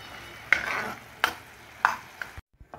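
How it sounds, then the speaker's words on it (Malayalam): A spoon scrapes through thick caramel studded with cashews, raisins, almonds and tutti frutti, three sharp stirring strokes close up with a sticky drag after each, then the sound stops. "ഇതിലേക്ക് അണ്ടിപ്പരിപ്പ്, മുന്തിരി, ജെറി, ബദാം, ടൂട്ടി ഫ്രൂട്ടി എന്നിവ ഇട്ട് നല്ലവണ്ണം മിക്സ് ചെയ്ത് ഇറക്കി വെക്കുക."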